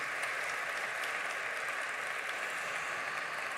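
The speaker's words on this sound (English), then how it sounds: "Let's give them a huge round of applause" Sustained applause from a conference audience for a panel at an AI summit plenary, a steady dense wash of clapping throughout, heard from within a large hall with no talking.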